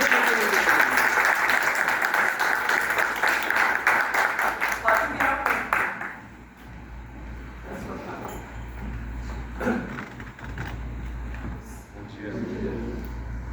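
Audience applause at an Umbanda homage ceremony fills the first six seconds with dense, loud clapping, then thins out into scattered claps over a quieter room, with voices murmuring underneath.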